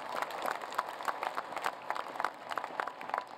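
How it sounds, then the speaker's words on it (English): An audience at an engineering school commencement claps for a team, a thin, fairly distant patter of many hands in the hall, uneven and moderately quiet. "Give them a round of applause for that."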